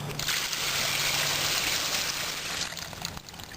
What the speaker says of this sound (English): that's the water from the sump pump